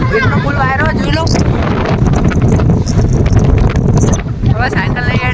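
Strong headwind buffets the microphone while riding a bicycle, a loud continuous roaring rumble of wind noise, with a person talking over it at the start and end.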